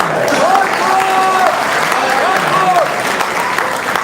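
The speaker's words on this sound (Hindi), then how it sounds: "एक बात ताली बजा" A crowd claps at a large Hindi kavi sammelan poetry gathering in Singoli, with thick, continuous applause throughout and a faint voice-like tone rising briefly over it twice.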